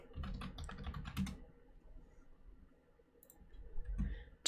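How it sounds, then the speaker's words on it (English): Computer keyboard being typed on in a steady burst of clicky keystrokes, a pause of quieter background, then a few more keys pressed near the end; close and moderately loud, no talk. "Hold on, I'm typing this manually."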